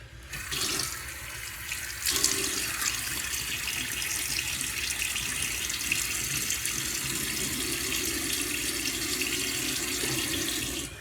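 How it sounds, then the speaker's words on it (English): Tap water runs steadily into a sink as a face is wetted before a shave, a continuous close rushing hiss with a brief splash and change in flow near the start, no voices. "let me get my face wet"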